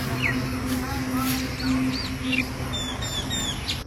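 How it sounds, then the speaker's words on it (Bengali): Several birds chirp and tweet near trees along a roadside in the morning, short scattered calls over a steady background hum and ambient noise, with no talk. "এদিকে আসতেই এত পরিমাণে পাখির ডাকগুলো শুনতে ভালো লাগে"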